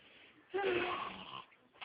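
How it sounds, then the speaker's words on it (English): A toddler makes a fake snore, a short close wheezy rasp with a snorting edge that lasts about a second in a quiet room and then breaks off, with a brief start of a second one right at the end. "Nice snore."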